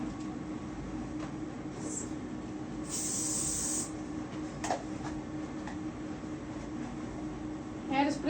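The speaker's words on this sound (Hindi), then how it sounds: "हेयर स्प्रे देख रहे हो मैं कितना लाइट यूज कर रही हूँ।" Hair spray misted lightly onto a bun hairstyle: a faint short puff, then a steadier hiss of almost a second over constant background noise.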